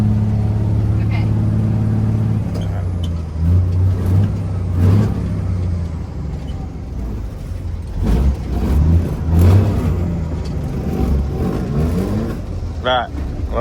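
Engine of a cabover truck revs under steady rumbling idle, with a few rising pushes and mechanical clunks of shifting, while people talk over it throughout.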